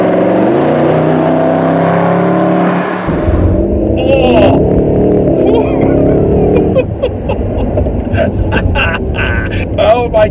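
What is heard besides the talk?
Mercedes SLS AMG accelerating fast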